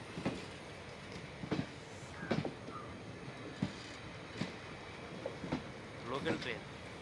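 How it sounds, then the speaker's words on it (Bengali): A local train rolls slowly past a railway level crossing near a small local station, with regular wheel clacks and a low rumble, a few horn-like tones and people talking over it. "local train"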